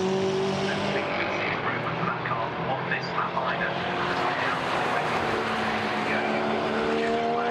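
A GT4 race car speeds out of Stirling's onto the straight toward Clark Curve at Brands Hatch during qualifying, a steady engine drone with other cars running, heard under continuous commentary.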